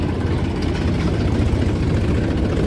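A 2-cylinder tractor engine idles nearby with a steady, loud low rumble and vibration that holds evenly throughout, with no talk over it.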